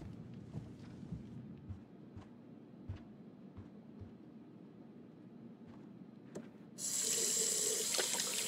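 A tap runs hot water into a sink in the video game Captain Spirit, a loud steady gush starting abruptly near the end after a quieter stretch of muffled background thumps.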